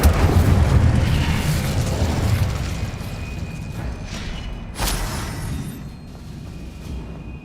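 Spell explosions in Hogwarts Legacy open with a loud deep boom that rumbles and fades, and a sharper blast follows midway, then a quieter tail of crackling effects.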